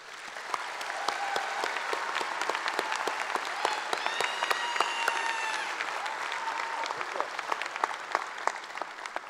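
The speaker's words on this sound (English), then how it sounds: "So give yourselves a round of applause." Graduating students at a high school graduation ceremony break into sustained applause, a dense, steady wash of many hands clapping close and loud, with scattered whoops and whistles rising through the middle.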